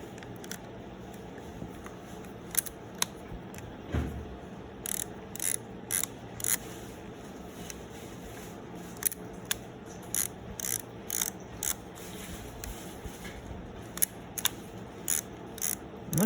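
A 1957 Kodak Pony II Bakelite 35mm camera having its exposure setting changed, a series of small sharp mechanical clicks and ratcheting ticks, close and distinct, in irregular clusters over a quiet background.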